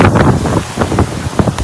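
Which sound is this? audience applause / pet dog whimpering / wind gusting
wind gusting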